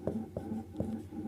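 A pen writes by hand on paper, short scratchy strokes repeating in a regular rhythm about four times, close and clear with no talking.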